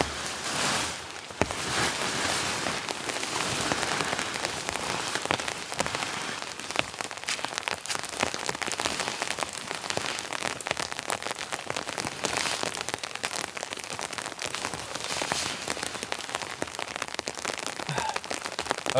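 Heavy rain pours steadily onto a tent pitched under a tarp at a winter snow camp, a dense continuous hiss with scattered sharper drop impacts, close and loud throughout, with no voices.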